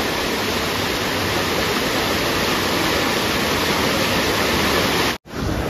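A monsoon waterfall visited on an outing with friends: a loud, close, unbroken roar of pouring water that stops abruptly at the very end.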